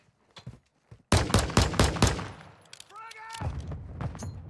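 Pistol fired in a video game firefight, a sudden quick string of about six loud close shots after a near-silent start, followed by lower rumble and voice chatter.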